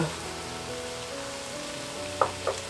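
Tomato paste frying in oil beside meat in a pot for a home eggplant stew gives a soft, steady sizzle under humming background tones, with two brief louder clinks or stirring taps near the end.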